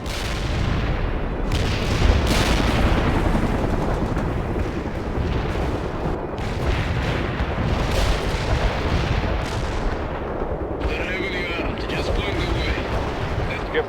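An artillery battery firing in a real-time strategy war game, with dense continuous booming and rumbling cannon fire that stays loud and unbroken throughout, heavy and close.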